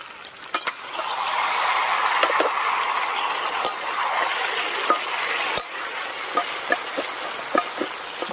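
Chicken curry with new potatoes, giblets and liver sizzles steadily in hot oil, with occasional sharp clicks and scrapes from a spatula stirring the pan, close and continuous.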